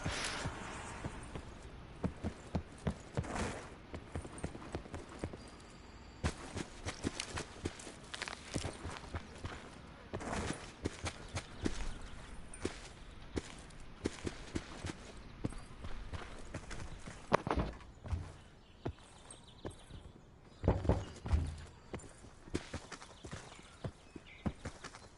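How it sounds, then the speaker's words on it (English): Footsteps in a solo battle royale shooter game come as a faint, steady run of soft thuds and clip-clop steps, with scattered louder taps amid busy game noise. "I heard footsteps"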